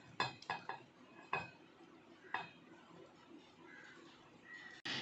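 A spoon scraping garlic paste into a bowl, giving a few quiet clinks and scrapes in an uneven rhythm, followed by a soft, near-silent pause.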